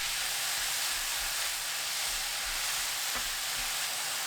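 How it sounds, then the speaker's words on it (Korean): King oyster mushrooms stir-frying over high heat with garlic in oil, giving a loud, dense, continuous sizzling hiss that stays constant throughout, close and without any talk. "지글지글 소리 나면 10초 더 볶은 뒤 새송이버섯 넣습니다. 센 불로 1분 30초 볶아주세요."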